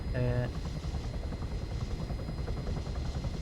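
A helicopter flies in the video game Arma 3: a steady, rumbling rotor drone fills the whole stretch at an even level, with a brief tonal chime at the very start.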